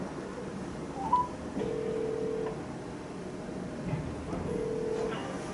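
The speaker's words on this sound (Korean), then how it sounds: "전화를 거기에 걸어요." Phone dialing tones sound as a shop's number is called, with a few short tonal beeps over a steady background hiss and no talking.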